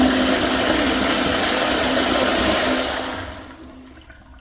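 A 1.28 gallon Kohler Kingston toilet flushes loudly with a rushing, roaring surge of water that holds steady for about three seconds, then drains away and fades into quieter trickling.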